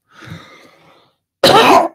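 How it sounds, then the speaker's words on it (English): A speaker addressing an audience lets out a single loud, harsh cough after a quieter stretch of low throaty noise, close and prominent. "I apologize for the cough, ladies and gentlemen."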